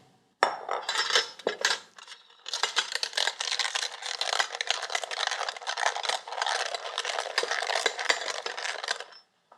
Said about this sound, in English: we'll put them right into a food mill and we'll puree them